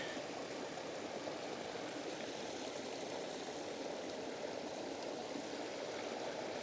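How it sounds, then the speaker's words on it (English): A small creek in the woods, starting to freeze over, flows with a faint, steady trickling wash that stays even throughout. "It's just a little creek in the woods that's starting to freeze over."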